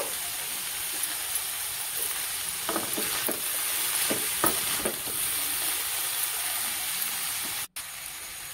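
Chow mein noodles stir-fried with vegetables in a wok, giving a steady close sizzle with soft scraping and tossing strokes throughout, no voices.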